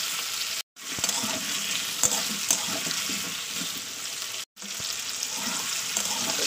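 Potatoes stir-frying with tomato and green chili in a pan, a steady loud sizzle with scraping stirs throughout, broken by two brief silent gaps.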